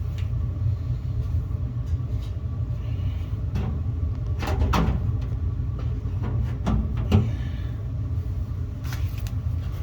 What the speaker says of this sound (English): That blower's still going good.